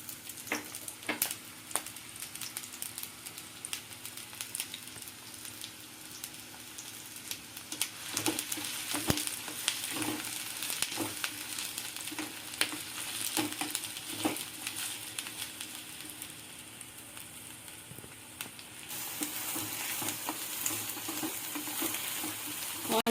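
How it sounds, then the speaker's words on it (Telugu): Onions and green chillies sizzle steadily in hot oil in a home kitchen, with continuous crackling and frequent sharp pops and spits, close and moderately loud throughout, with no speech. "కొంచెం బ్రౌన్ కలర్ వచ్చే వరకు వేపించుకుందాం."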